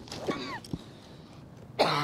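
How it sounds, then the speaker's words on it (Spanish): A man coughs a few times in a dramatic indoor scene, short harsh bursts close to the listener with a brief rough throat sound near the end, no talking. "tienes que ir a revisarte esa tos"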